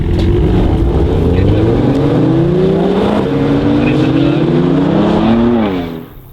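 BMW M2 cars, including an older M2 CS, accelerate hard in a half-mile roll race, engines rising in pitch through several gear changes, loud and close before the sound drops away at the end.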